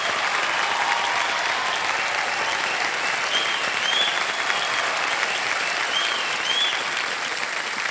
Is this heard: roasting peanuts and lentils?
no